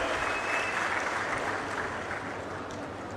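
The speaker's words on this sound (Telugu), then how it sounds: "అందరూ కూడా గట్టిగా చప్పట్లు కొట్టి అభినందనలు వారికి చెప్పాలి" Crowd clapping at a Swachh Andhra–Swarna Andhra public programme in Anakapalli, honouring sanitation workers: a broad, even wash of applause lasting a few seconds, fairly distant and softening gradually, with no speech over it.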